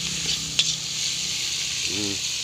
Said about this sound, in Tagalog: pwede nang igisa rin yung munggo